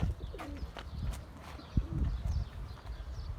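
Young tumbler pigeons from Edirne, Turkey, coo softly while flying amid outdoor rustling and scattered thumps, with a few sharp bird calls and low background noise throughout.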